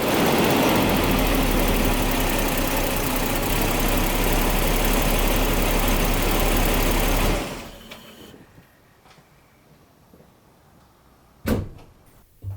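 A Jaguar XJ40 engine runs at a steady, loud idle for several seconds, then cuts off, leaving quiet room noise and a single sharp knock near the end.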